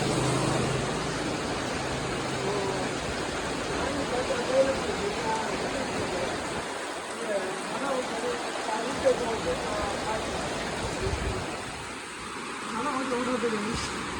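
Heavy rain pours steadily in Oluvil, Sri Lanka, a dense continuous hiss close by with water running off, while people talk over it.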